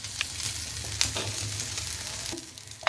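Chillies, onion, garlic and ginger frying in oil for a Pahadi bhatt dal from Uttarakhand, giving a steady close sizzle with a few sharper crackles and pops, no voices.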